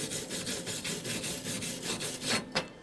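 Steady back-and-forth scrubbing of a wire brush over a freshly laid self-shielded flux-cored lap weld, a rhythmic raspy scraping that repeats about every quarter second, close and fairly loud, ending with a sharper scrape.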